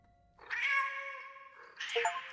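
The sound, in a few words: cat meow sound effect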